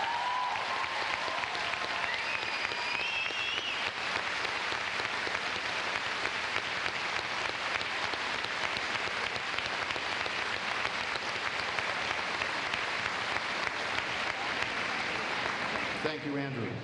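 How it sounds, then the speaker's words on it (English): A high school graduation crowd in Ste. Genevieve, Missouri applauds long and loudly, a dense continuous roar of clapping that stays steady before cutting off near the end. A voice is briefly heard at the start. "Let's give him a round of applause."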